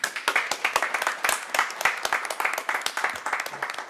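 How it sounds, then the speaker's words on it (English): A small group applauds at a harbor commission meeting, the individual claps distinct and irregular, moderately loud and close, continuing steadily for several seconds without talk. "So just wanted to give him another round of applause."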